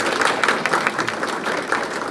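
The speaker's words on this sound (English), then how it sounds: "ask you all to give her a round of applause, thanking her for all the work she does for the foundation" An audience at a foundation's spring grant celebration applauds for Natalie, a dense, steady wash of many hands clapping in a hall for a couple of seconds.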